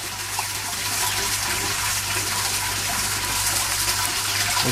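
Steady rushing water drains through a bell siphon in a backyard barrel aquaponics system, a constant churning flow with a low hum underneath, fairly close and unbroken, as the water level drops.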